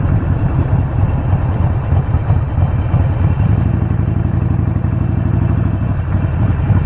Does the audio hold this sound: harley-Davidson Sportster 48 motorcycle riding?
yes